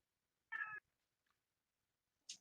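A house cat lets out one clear, short meow nearby, followed by a brief faint chirp and near-silence in an otherwise quiet room.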